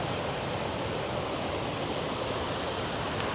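A waterfall in North Cascades National Park, a steady dense roar of rushing water, broadband and constant throughout with no talk.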